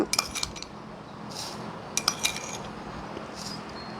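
A spoon clinks against a container while three spoonfuls of sugar go in for homemade rice-water microbial fertilizer. Scattered light metallic taps and clinks sound over a quiet background, with no one speaking.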